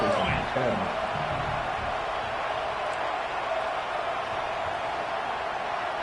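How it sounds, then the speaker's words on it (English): A stadium crowd at a football game makes a steady, broad roar of cheering and noise throughout, with a voice briefly heard over it near the start. "This crowd bringing the energy and noise early."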